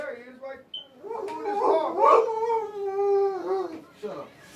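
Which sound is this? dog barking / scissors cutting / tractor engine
dog barking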